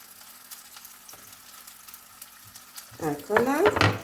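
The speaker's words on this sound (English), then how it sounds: "And now we're gonna nicely put these potatoes on." Potatoes laid into a pan with a little olive oil give a faint, steady sizzle sprinkled with small crackles, joined near the end by a louder, brief burst of sound.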